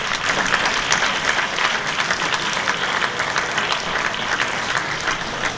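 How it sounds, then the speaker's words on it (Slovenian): Audience applause at a cultural evening and art exhibition in Kranj, steady and full from start to finish, many hands clapping with slight swells in intensity. "Še en aplavz."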